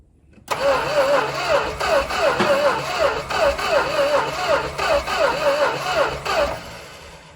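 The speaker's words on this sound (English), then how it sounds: "Okay, Dave, crank on it." An abandoned big block Plymouth Trail Duster's engine cranks repeatedly for about six seconds in a rhythmic whirring pattern, never catching for lack of spark, then stops abruptly.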